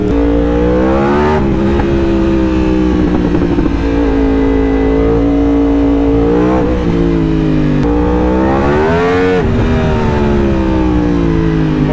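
A Mercedes G-Class engine revs loudly and steadily on a street in Thailand, its pitch rising and falling in several strong surges over a continuous close roar.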